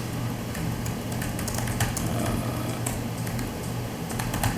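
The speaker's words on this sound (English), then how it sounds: "as soon as I'm finished typing this" Someone types quickly on a computer keyboard during a conservation commission meeting, with rapid irregular key clicks over a steady room hum and no talk.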